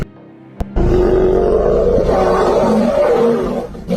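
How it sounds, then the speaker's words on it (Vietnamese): Lion roaring on the African savanna during a pride battle: one deep, loud, sustained roar that swells after a brief thump and holds for about three seconds before fading. "Tiếng gầm của hắn xé toạc sự tĩnh lặng của thảo nguyên"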